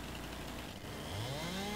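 In Farming Simulator 19, a virtual chainsaw starts up. Its engine rises into a climbing, buzzing whine, faint and alone.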